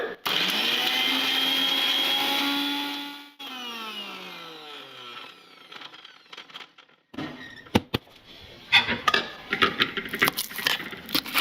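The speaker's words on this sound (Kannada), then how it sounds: "ಇನ್ನು ಇದಕ್ಕೆ ನೀರೇನು ಹಾಕ್ದಲೇ ಗ್ರೈಂಡ್ ಮಾಡ್ಕೊಳ್ಳೋಣ." A mixer grinder whirs loudly for about three seconds grinding green chillies without water, then winds down, followed by scattered knocks and rattles of the jar and lid.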